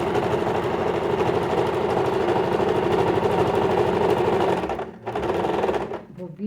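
A sewing machine runs loud and close while stitching the lining of a zippered fabric pouch, a dense rapid mechanical chatter that slows and stops near the end with a brief restart.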